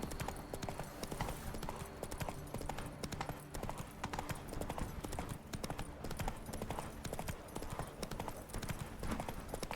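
Roach, Geralt's horse in The Witcher 3, gallops with a continuous rapid clip-clop of hooves, close and steady throughout, under a bed of game ambience.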